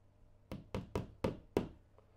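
Five sharp knocks hammer a pin or hook into a wall to hang a picture frame, struck in a quick, fairly even rhythm close by, followed by a faint tap and no talking.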